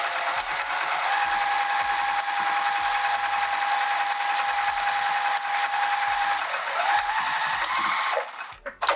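A sewing machine stitches skirt fabric being upcycled into a zipper pouch, running in a steady, close, continuous whir with faint regular ticks for about eight seconds, then stopping abruptly.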